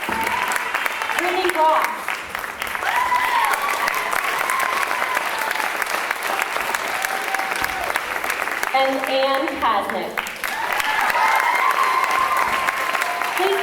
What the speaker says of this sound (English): Please give these girls a big round of applause.